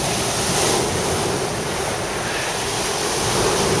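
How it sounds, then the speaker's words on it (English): Steady roar of waves breaking on a sloping beach at high tide, continuous and full, with wind buffeting the microphone and no voices. "Well, here we are, high tide."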